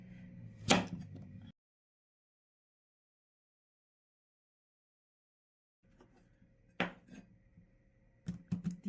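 Knife slicing dense Asian sweet potatoes on a cutting board: a couple of sharp clacks near the start, a long silence, then a few more crisp chops and knocks close by.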